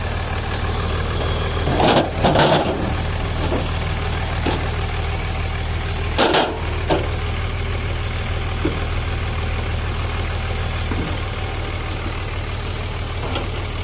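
A vehicle engine idles steadily with a low, even drone while hooked up by jumper cables for a jump-start, broken by a few sharp metallic clanks and knocks near the start.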